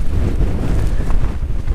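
Steady wind buffeting a microphone, a continuous low rumbling roar with gusty fluctuations throughout.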